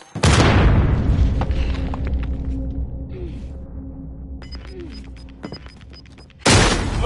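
A frag grenade detonating in a PS4 shooter game, a loud booming blast that rolls off into a long fading rumble, followed by quieter sounds and a second heavy burst at the end.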